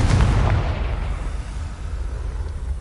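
A Confringo fire-blast spell from Hogwarts Legacy erupts in a loud low boom at the start, then rumbles and fades into a lingering, decaying roar with no voices.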